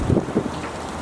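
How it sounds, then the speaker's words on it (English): Wind gusting outdoors in a Lowe's store parking area, heard as a brief, loud rumbling buffet against the microphone with no voices. "it's a little windy."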